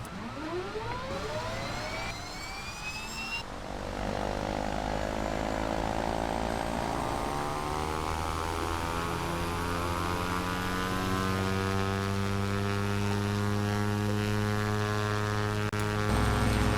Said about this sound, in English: Okay, ready to start engine 1.